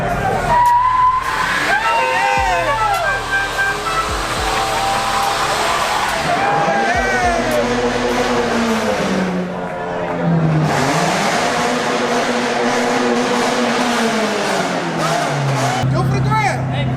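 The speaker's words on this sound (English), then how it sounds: "And there's the first burnout of the night. It's a baby burnout, but it got it started." A car doing a short burnout at an evening car meet, its engine revving hard in rising and falling sweeps amid crowd noise, loud and close with people talking and shouting throughout.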